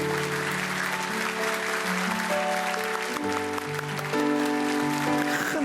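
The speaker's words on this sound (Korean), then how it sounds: "큰 박수로 그렇게 축복해 주시기 바랍니다." A church congregation applauds to bless a new family receiving a gift, steady dense clapping throughout with sustained organ or keyboard chords underneath.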